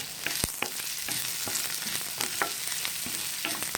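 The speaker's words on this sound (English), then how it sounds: "add in a bit of turmeric. Okay, stir it." Turmeric is stirred into oil frying in a pan for a grated carrot poriyal, giving a steady close sizzle broken by sharp scrapes and clicks of the stirring spoon, with no talk.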